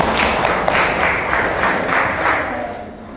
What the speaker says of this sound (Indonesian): Kasih tepuk tangannya.